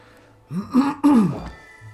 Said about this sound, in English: Sorry, I'm still coughing.